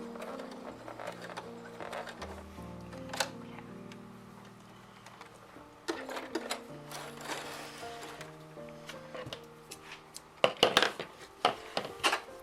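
A sewing machine stitches a heavy overnight cloth pad, giving repeated whirring runs with short pauses and clicks, moderately quiet with no talk.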